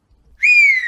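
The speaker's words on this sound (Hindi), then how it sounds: "सास को देखते ही दोबारा सीटी बजाने लगती है" A woman gives a single loud, clear whistle, one sustained high note that starts abruptly and holds for about half a second.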